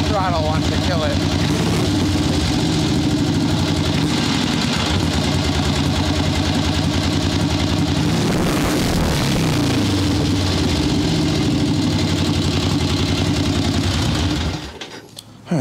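Swap meet chopper motorcycle engine with a mechanical carburetor idling roughly during carb tuning, loud and close, a steady throbbing run with an uneven surge midway before it cuts out at the end.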